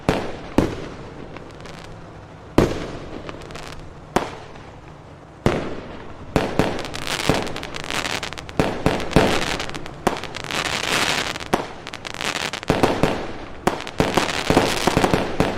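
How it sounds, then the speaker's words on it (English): Fireworks go off over Eldora Speedway race track before a 305 sprint car race, with sharp, loud bursts at first spaced apart and then coming in a rapid, crackling barrage that runs on for many seconds. "as we get ready to go racing here, fireworks over Eldora."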